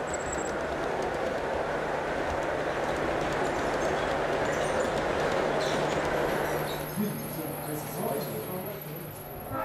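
Large-scale model trains rumble and clatter along track at a model railway club layout, with a steady rolling hum, a faint high whine above, easing off toward the end.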